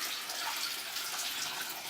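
Water from a 5-gallon bucket pours steadily onto carpet in a test area, a continuous hissing splash with no talk.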